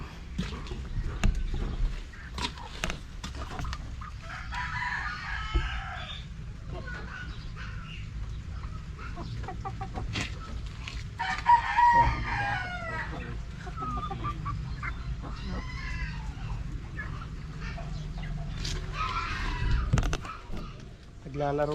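Chickens cluck and squawk close by with a rooster crowing partway through, over steady outdoor background noise and occasional talking.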